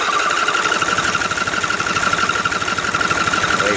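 A Craftsman lawn tractor engine runs at about half throttle with a steady, buzzing drone that holds even throughout and has no talking over it.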